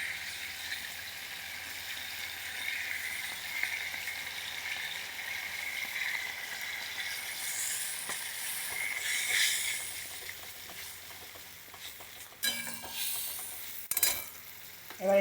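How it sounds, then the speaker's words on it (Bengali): Spices with turmeric and mustard paste fry in a pan, a steady sizzle and hiss running throughout, with occasional stirring and a few sharp clinks of a utensil near the end; no one speaks. "এবার একটু ভেজে নেব।"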